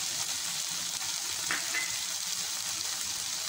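Vegetables such as chopped beans sautéed in a pan over a high gas flame for fried rice, giving a steady, even sizzle throughout with no pauses or voices.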